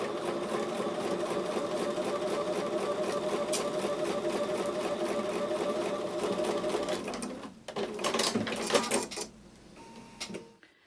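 Close up, a sewing machine runs a quarter-inch seam on quilt block pieces in a long, steady, rapid whir, then slows and stops, with a few shorter stitching bursts and handling noises at the end.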